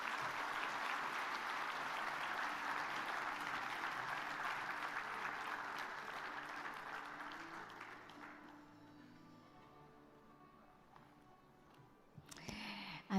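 Audience applause at the closing ceremony of an agroforestry congress, a dense sustained ovation for about eight seconds that gradually thins out, followed by a quieter stretch and a brief burst of sound at the end.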